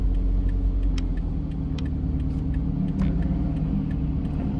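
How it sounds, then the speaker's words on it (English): A vehicle that sounds like a diesel truck passes on a road, a steady low engine rumble heard close and fairly loud, alone without talk. "It sounds like a diesel truck or something."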